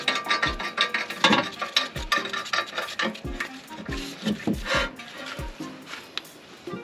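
Hand ratchet working a lug nut onto a Lexus GS300 wheel during a big brake kit install, a series of close, rapid clicking strokes with metallic clinks and short pauses between bursts.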